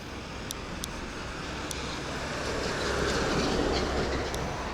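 A Shinkansen high-speed train runs past near a small countryside road in Saitama, Japan, a broad steady rushing roar that swells toward the end, with faint high clicks over it and no talking.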